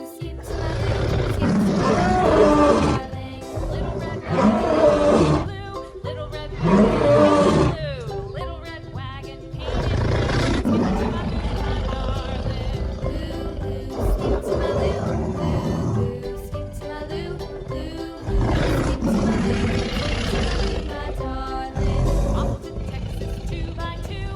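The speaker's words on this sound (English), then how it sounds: "Lion." A lion roars repeatedly in deep, rough bursts separated by short pauses, with grunting tails between some calls, loud and close, with no talking.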